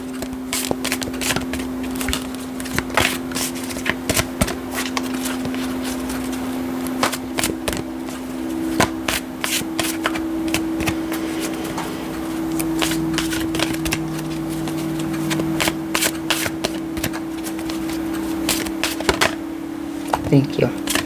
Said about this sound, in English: I was trying to talk and shuffle.